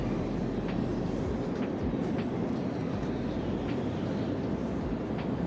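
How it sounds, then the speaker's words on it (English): A long train rolls past at close range, a loud, continuous rumble of wheels on rails with faint periodic clacks and squeaks, steady throughout with no talk. "You can see the train as far as it can go."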